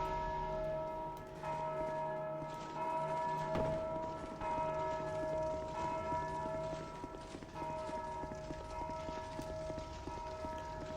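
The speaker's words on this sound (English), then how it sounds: "who rang the bell?" A big bell in Dark Souls II tolls with sustained ringing overtones over about eleven seconds. It is loud and resonant, with one stronger strike partway through and no clear speech.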